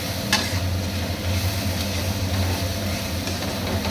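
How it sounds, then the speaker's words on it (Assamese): Cumin seeds fry in a pan with a steady, continuous sizzle and some stirring, a low hum running beneath throughout. "এয়া জিৰাখিনি ভালকৈ ভাজি লৈছোঁ"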